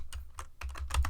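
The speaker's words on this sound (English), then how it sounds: "typing" Quick bursts of clicking keystrokes on a computer keyboard, close and soft, with several keys tapped in short irregular clusters and no voice over them.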